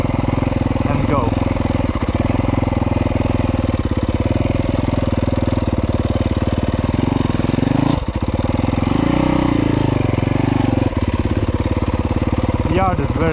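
A Yamaha YZ250F dirt bike idling on a wet uphill slope, then pulling away: a steady close engine throb with brief throttle blips and a dip near the middle, under a speaking voice.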